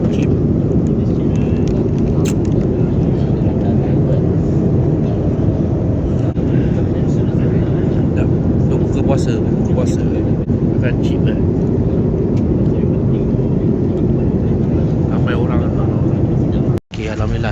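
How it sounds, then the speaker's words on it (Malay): Steady broadband roar inside an airplane cabin during a roughly six-hour flight to Tokyo, continuous and loud throughout with faint talk underneath, and a brief dropout near the end. "Kita berbuka puasa dalam kapal terbang"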